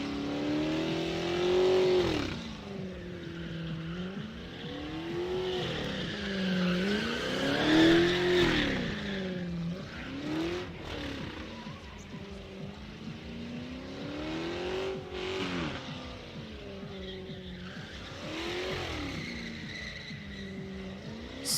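A 5.7-liter drift car revs hard and skids at a drift track, with the engine wailing up and down in long swooping pulls and tires squealing over a steady, loud roar.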